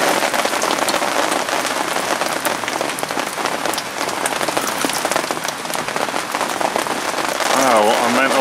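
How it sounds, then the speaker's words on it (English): Heavy rainstorm drums hard on a bivvy shelter beside a carp fishing lake, a dense, loud, continuous hiss of rain pelting the fabric, swelling slightly stronger near the end. "what a mental rainstorm that just was"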